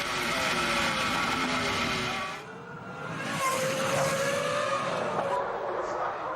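Formula 1 cars in 2004 racing wheel to wheel, Montoya chasing Christian Klein's Jaguar for tenth, high-revving engines screaming past with a sharp pitch drop, a brief lull, then another loud surge and tyre squeal, under race commentary.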